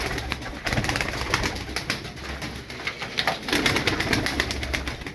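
Domestic crested pigeons coo and shuffle nearby, with fluttering wing claps and flapping bursts over a steady background.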